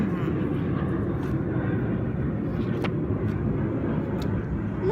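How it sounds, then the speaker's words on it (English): Broadband roar of an airplane passing overhead, a steady loud rush filling the whole stretch outdoors with no voices. "Fuck you, airplane."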